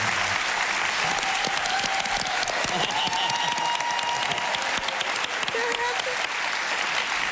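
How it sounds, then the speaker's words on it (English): A large audience claps continuously and loudly as guests are welcomed on stage, a thick, steady roar of hands with voices calling out beneath it throughout. "I'm gonna stand up and clap for myself."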